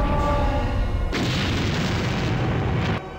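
A deep explosion booms in the Windows 3.1 game Buichi Terasawa's Takeru: Letter of the Law as something is burst open, a loud roar lasting about two seconds before cutting off abruptly after a quieter lead-in.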